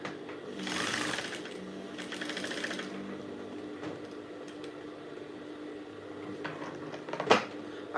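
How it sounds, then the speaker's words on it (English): Sewing machine stitching down a trimmed seam on an off-shoulder blouse, heard in two short whirring bursts early on, then quieter handling clatter and a sharp click near the end, with no talk. "I'm going to stitch it down again."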